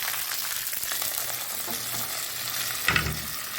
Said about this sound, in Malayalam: അപ്പോൾ കറിവേപ്പില ആഡ് ചെയ്ത് കൊടുത്ത് ഇനി നമുക്കത് നമ്മളെ കറിയിലേക്ക് ഒഴിച്ചു കൊടുക്കാം